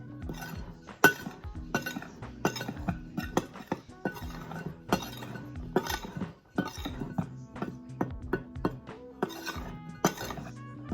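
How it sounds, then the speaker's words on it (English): Dry chocolate cake ingredients stirred in a bowl for a quick eggless vegan cake give a steady run of sharp clinks and taps as a utensil knocks the bowl, close and fairly crisp, with no talking. "I'm just going to mix up the dry ingredients."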